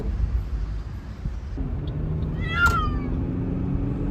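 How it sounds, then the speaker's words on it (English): A cat meows in a car on a long drive to the vet, giving a few plaintive cries over the steady low rumble of the moving vehicle. "there is nothing Iris hates more than the car."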